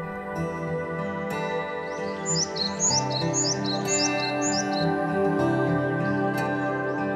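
Small birds chirp and trill on a forested mountain trail, with short repeated song phrases rising over a steady hum of background sound, moderately close.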